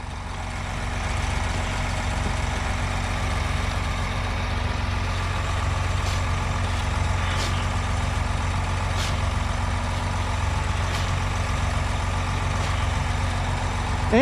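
Tractor engine running steadily while a hole is filled in, a continuous low mechanical drone with a few faint clicks, heard alone with no talk.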